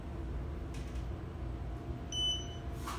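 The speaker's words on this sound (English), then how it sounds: "But now it's actually the floor passing chime." Schindler 3300 elevator floor-passing chime in a hotel, a single short electronic tone ringing faintly over the quiet hum of the moving cab.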